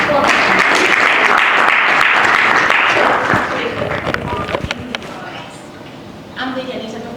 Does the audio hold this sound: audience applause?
yes